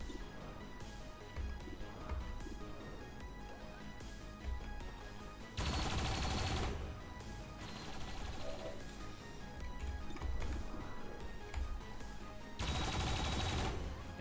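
Defensive turrets in XCOM 2 fire in rapid automatic bursts over a dense, continuous game soundscape, with two louder broadband volleys standing out partway through.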